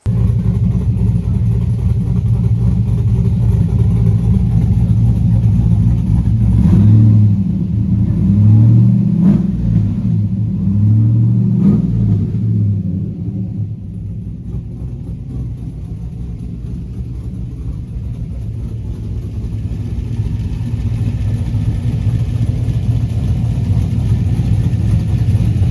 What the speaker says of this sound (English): I just did the first road test in Austin's truck